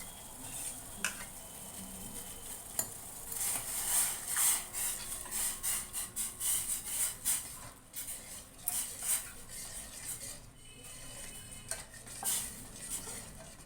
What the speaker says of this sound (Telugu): వేసిన తర్వాత ఇలా కలుపుతూనే ఉండాలి